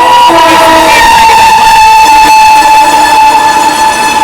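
A Duronto Express train races at high speed through Belur station, very loud and close, with a sustained blaring horn tone over the continuous roar and rumble of the passing carriages.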